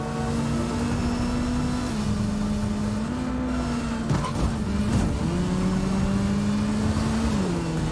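Motorcycle engine in the video game Gotham Knights, a steady droning hum that shifts pitch up and down as the bike is ridden, holding at a constant close level throughout with no talk.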